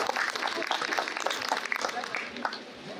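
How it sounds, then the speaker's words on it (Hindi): An audience at a women's poetry event claps in a steady ripple of applause, fairly soft, while voices chatter over it. "एक बार तालियां बजा दूँ।"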